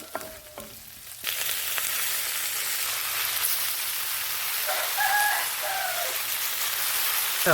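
Chicken pieces hit hot oil for a Kongu-style Sinthamani chicken dish and set off a loud, steady sizzle. The dense frying hiss runs close and unbroken from the first second to the end, with no talking.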